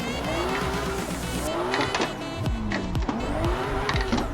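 A Toyota JZX90 drifting in Assetto Corsa with handbrake and clutch kicks in a tight space: loud continuous tire squeal over a revving, bouncing engine, with pitch sweeps as the car slides, heard close.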